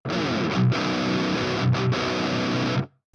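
Heavily distorted electric guitar through the Audiority Klirrton Grindstein amp plugin's initial preset plays chugging, crunchy chords with a couple of brief palm-muted stops, loud and close, then cuts off.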